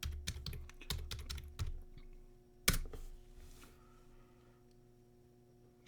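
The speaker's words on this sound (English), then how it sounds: "I'm just going to type this in." Quick bursts of keystrokes on a computer keyboard, close and quiet, followed by a single sharper tap and a pause of near silence with faint room hum.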